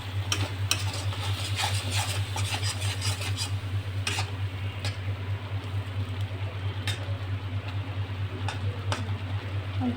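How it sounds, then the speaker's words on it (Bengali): Onion, ginger and garlic are stirred in a pan of oil for a prawn malai curry, with scattered light scraping clicks over a constant low hum and no talking. "পেঁয়াজ রসুনটা একটু ভালোভাবে নাড়াচাড়া করে নিতে হবে"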